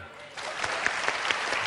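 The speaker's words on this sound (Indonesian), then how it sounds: "Tepuk tangan." A live audience at a talk breaks into brief applause, with scattered clapping rising in density under a faint murmur of voices.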